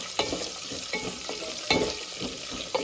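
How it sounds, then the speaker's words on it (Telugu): Onions frying over low flame in a pan with tempering spices, crackling and sizzling as a spoon stirs them in quick repeated scrapes, close and clear with no talking. "ఉల్లిపాయలు వేసుకుందాం ఇది కూడా బాగా కలపాలండి బాగా వేగాలి ఉల్లిపాయలు కూడా గోల్డ్ కలర్ రావాలండి"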